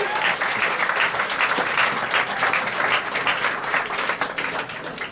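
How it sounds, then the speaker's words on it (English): Sustained applause from an audience welcoming an airline flight crew at a gate event for the last American Airlines McDonnell Douglas MD-80 arrival, dense steady clapping throughout at close range. "Can I just ask for another round of applause for our flight team here that have joined us today?"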